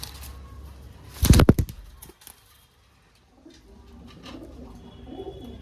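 Pigeons kept for sale, a low soft cooing heard up close, preceded by a sudden loud burst of wing flapping and a brief rustle, then gentle rolling coos continuing near the end.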